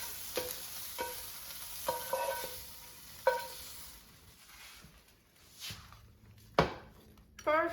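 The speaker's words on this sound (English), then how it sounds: "So let's remove them from the frying pan." Metal utensils scrape and clink against a frying pan in a series of short, distinct strikes as sautéed chicken livers are removed, while soft sizzling hisses underneath.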